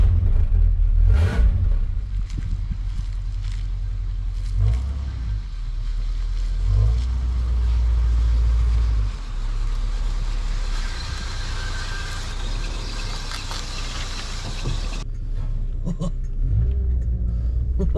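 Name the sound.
Rolls-Royce Silver Shadow car driving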